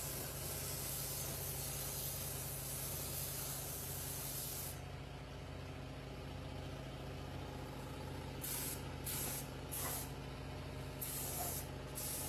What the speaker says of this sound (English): we're gonna put probably 2 coats, maybe 3 for full coverage of black base coat on there